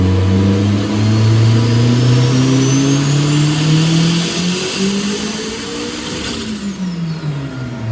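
A modified Volkswagen Beetle engine on a dyno revs hard and climbs in pitch, holds a high roar, then winds down, recorded up close with no talking.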